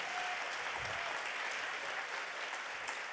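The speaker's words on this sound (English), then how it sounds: "Let's have another round of applause." Steady audience applause at a poetry and song session, dense and continuous from start to finish with no voices over it.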